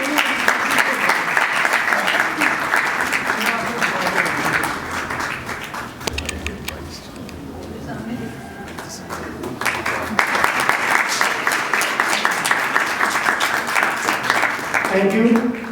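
A congregation at a Christmas Day church service claps for Suleman: loud, sustained applause that fades briefly while a voice talks, then swells back to full strength.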